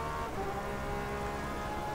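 Steady, dense rain hiss fills the whole stretch in the racing game rFactor 2, at night at Road America, a constant wash of noise with a low rumbling underneath and no voices.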